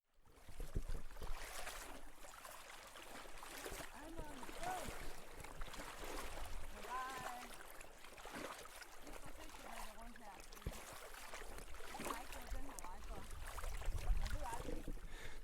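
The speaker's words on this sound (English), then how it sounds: "I'm walking in knee-deep water in Gyldensten Strand" Footsteps sloshing through knee-deep water in Gyldensten Strand, an expansive coastal wetland, with steady splashing and swishing strides continuing throughout, wind buffeting the microphone.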